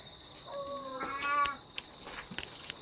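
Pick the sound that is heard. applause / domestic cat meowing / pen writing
domestic cat meowing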